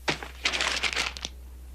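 A paper calendar is crumpled in a few quick, crackly bursts over about a second, close and moderately quiet, over a low steady hum.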